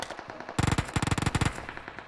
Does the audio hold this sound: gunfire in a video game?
yes